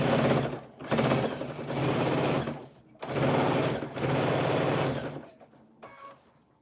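A sewing machine runs in two long bursts of rapid, buzzing mechanical stitching separated by brief pauses, close and clear, then stops and falls quiet.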